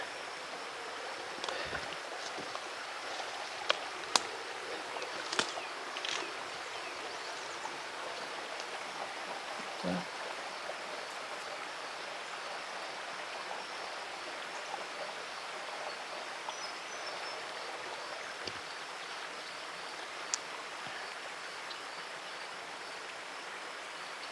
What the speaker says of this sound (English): A beautiful little creek.